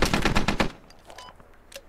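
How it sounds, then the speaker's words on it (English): A PKP or M240 machine gun fires in the video game Squad, a rapid loud burst of about six shots followed by a fading echo and a few scattered distant pops. "I heard some type of machine gun shoot, but I can't tell if it was a PKP or a 240"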